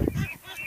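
Ducks on a duck farm in Uttar Pradesh give a quick pair of nasal, honking quacks close by, followed by softer calling, all within a brief moment.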